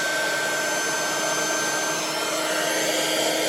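A hot air heat tool blows steadily on a sticker on game cover art, making a loud, constant whooshing roar with a faint high whine, heard alone throughout.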